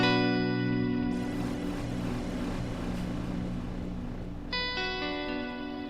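An electric guitar runs through the Line 6 Helix hazard effect, a held chord smeared into a dense noisy, distorted wash, then a fresh bright chord struck near the end; no speech.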